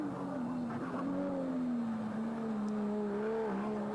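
Race car engine at the Pikes Peak hill climb, heard as a steady sustained engine drone with gradually shifting pitch, fairly distant, running alone throughout with no talk.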